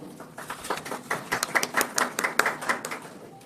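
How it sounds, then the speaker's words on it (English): Light, sparse applause at a contract signing, a handful of people clapping softly and unevenly, building briefly and then fading out. "Is it just me, or are those claps very, very timid?"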